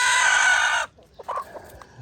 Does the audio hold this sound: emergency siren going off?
no